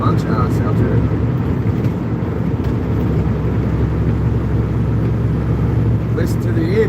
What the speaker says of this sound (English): Listen to the engine, you can about tell when we're running into ice.